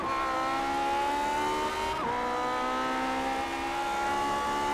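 Vintage Grand Prix Legends race cars in iRacing lap Le Mans, a steady, loud high-revving engine drone with layered harmonic whine and a brief shift blip midway, several cars running close together, no voices.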